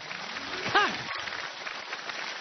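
Studio audience applause on a rural Chinese variety show, a dense, steady patter of clapping that runs throughout. A brief voice cuts in near the start.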